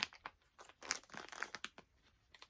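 Crinkling and tearing of stiff shrink-wrap plastic around a yarn package, a series of sharp close-up crackles and rips with short pauses between them.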